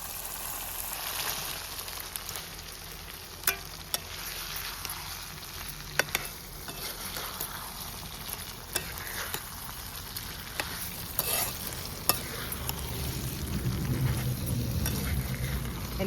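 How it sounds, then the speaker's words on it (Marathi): Goat liver frying in masala in a pan over a wood-fired village stove, a steady close sizzle with scattered clicks and scrapes of stirring, growing slightly fuller toward the end. "आता याच्यात हे कलिजी टाकतो."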